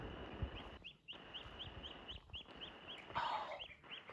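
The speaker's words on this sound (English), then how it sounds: "Oh, they're little ducklings." High, repeated peeping calls from ducklings, evenly spaced and steady over a constant background hiss, with one brighter chirp near the end.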